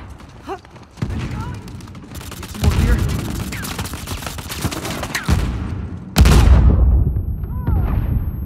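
Gunfire during a team deathmatch in Uncharted 4 multiplayer on a prison map: bursts of rifle fire and heavy booming shots, dense and loud, coming in waves with a big blast near the end.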